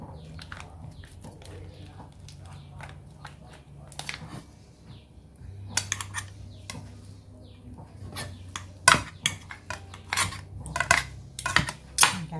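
Fermented Thai pork (naem) is broken apart in a bowl with a utensil, giving scattered light clinks and scraping taps that grow busier and louder toward the end, with a quiet voice intermittently in the background.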